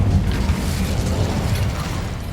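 A fire spell cast in Hogwarts Legacy inside a cavern, a short, loud rumbling whoosh of flames with crackling bursts and a low roar that holds steady throughout.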